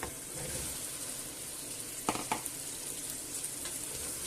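Potatoes tipped into a pan of chickpeas and hake, a steady frying sizzle with a couple of short clattering bursts midway as they drop in and settle.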